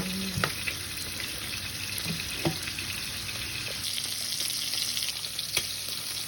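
Green beans fry in butter and olive oil in a pan, giving a steady close sizzle broken by a few sharp clicks and knocks of stirring.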